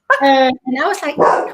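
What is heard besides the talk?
dog barking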